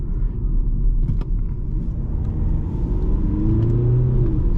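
Car driving along an autumn road in the Swabian Alb, steady engine rumble and tyre noise, rising slightly as it accelerates near the end.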